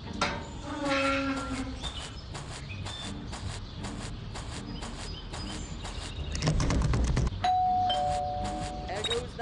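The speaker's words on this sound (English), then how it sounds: "There goes that stupid bell again." A school bell rings with rapid repeated strikes in the video game Scary Teacher 3D, mixed with game music and other effects, moderately loud and continuous, with a voice speaking briefly.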